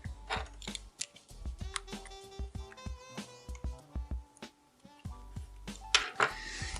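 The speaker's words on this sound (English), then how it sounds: "you want to take a screwdriver and loosen it about 2 turns" A screwdriver loosens the screw under the centre cap of a speed Rubik's cube, giving a close run of small plastic clicks, creaks and ratcheting ticks, with a steady tonal hum running beneath.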